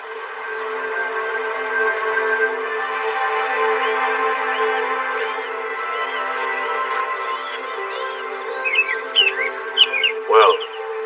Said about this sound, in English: Well, birds singing